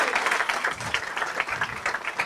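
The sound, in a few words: audience applause for Brummers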